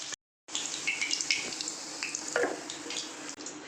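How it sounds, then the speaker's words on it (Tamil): Chicken pieces for chicken manchurian fry in sizzling oil, a steady close hiss with scattered pops and crackles after a brief silent gap at the start. "இப்போ சிக்கன் வந்து 2 பக்கமும் திருப்பி போட்டுட்டு பாருங்கள், எண்ணெய் சலசலப்பு கம்மியான உடனே நம்ம எடுத்துருவோம்"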